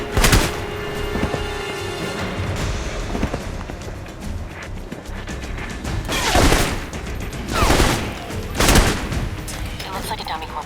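Gunfire in the Alpha Protocol video game: repeated loud shots and bursts through a noisy firefight, with three heavy blasts in the later half standing out above the rest.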